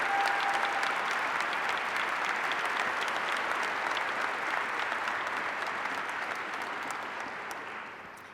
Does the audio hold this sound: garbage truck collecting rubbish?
no